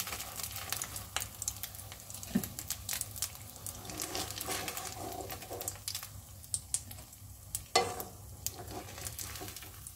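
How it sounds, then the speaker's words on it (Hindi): Potato balls frying in oil give a steady crackling sizzle throughout, with faint scattered taps and clicks over the top and no talking. "पोटैटो बॉल्स जो है वो फ्राई हो गए हैं।"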